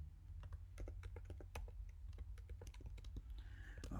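Rapid, uneven keystrokes on a computer keyboard while entering a math formula, a steady run of close, crisp clicks with short pauses and no talking.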